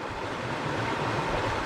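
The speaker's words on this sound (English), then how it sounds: "where I am now is where the river is in flood" A river in flood rushes past as a steady, broadband roar of water, loud and constant with no breaks, and no voices over it.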